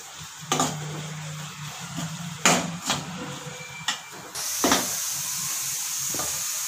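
Chili paste being stirred into a hot, sizzling mixture in a pan for masala bread, with steady hiss and spatter broken by scattered clinks and scrapes of the spoon, close and fairly loud, no talking.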